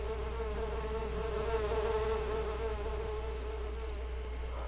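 Bees buzzing steadily in a garden, a continuous faint insect drone close by with no talk.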